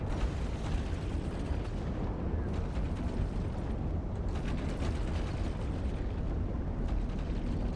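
Ship weapons fire in a huge EVE Online space battle: a dense, continuous roar of blasts and artillery-like booms layered thickly together, steady and loud throughout.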